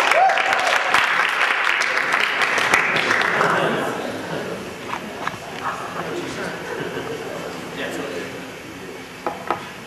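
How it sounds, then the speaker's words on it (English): A coffeehouse arts-night audience claps for a performer, a burst of applause that is strong at first and then thins into scattered claps over room noise and chatter. "round of applause."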